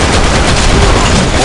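Rapid weapon fire in the online shooter BlackShot on the Lost Temple map, a loud, continuous burst of gunshots packed tightly together with no pause, harsh and close.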